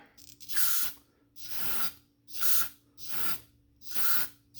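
Diesel injector nozzles from a John Deere R tractor fire on a test tripod, giving five sharp, evenly spaced hissing spray bursts about a second apart, each loud and close with quiet gaps between.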